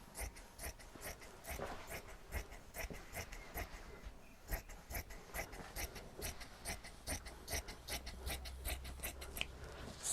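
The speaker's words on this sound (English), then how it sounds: "What I'm going to do is trim away this excess wadding" Scissors snipping away excess wadding from a finished long-arm quilt, a steady run of quick, close cutting strokes repeating in a fairly even rhythm with soft fabric rustle underneath.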